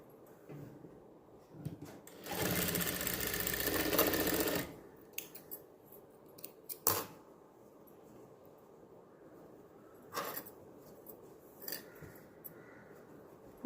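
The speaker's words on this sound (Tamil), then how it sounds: "இதில் ஒரு தையல் போட்டுக்குவோம்." A sewing machine stitches the back neck of a blouse in one close, loud burst of rapid whirring lasting a couple of seconds, followed by quiet fabric handling and scattered clicks.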